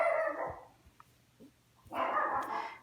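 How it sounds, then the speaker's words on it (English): A puppy barks at a car pulling into a home driveway, giving a couple of sharp close barks, then small yips and whimpers, followed by another bark burst after a short pause. "she's barking because somebody is pulled up in our driveway"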